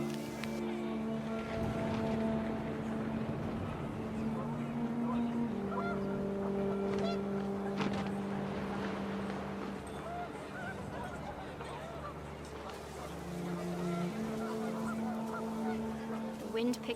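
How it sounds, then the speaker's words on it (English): Panicked geese honk in a blustery wind in a video game, their layered, sustained honks droning steadily at moderate loudness over a breathy background. "The wind picked up and panicked geese appeared and quickly went."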